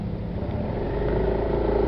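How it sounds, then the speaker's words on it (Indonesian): A car rumbles past nearby at moderate volume. The engine hum holds steady and swells slightly as the car goes by. "Wih, mobil ke sono kayaknya"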